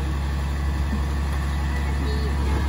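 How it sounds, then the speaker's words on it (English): Garbage truck passing on a street, a loud low engine rumble that stays steady and close, with people talking over it. "You see the garbage truck?"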